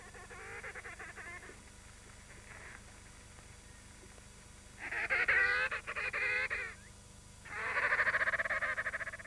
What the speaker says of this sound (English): After laying, the birds resume their calling, but this time in duets.